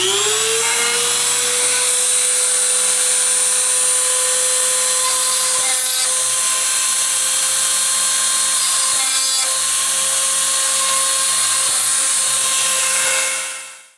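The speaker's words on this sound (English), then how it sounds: "I'll go ahead and drill these now." A small high-speed drill whines steadily and close, briefly dipping twice as it bites into a printed circuit board, then spins down at the end.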